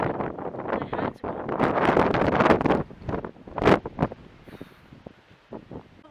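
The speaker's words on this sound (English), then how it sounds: "God, it's windy and it's cold." Strong, cold gusts of wind on a stormy day at the beach in Bournemouth buffet the microphone in loud, rough bursts that gradually die down to quieter rumbles.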